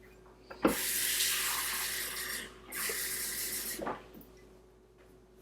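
Tap water runs into a kitchen sink while pizza dough is being made. It comes as two bursts of steady splashing hiss, with a clunk of the faucet turning at the start and end of each.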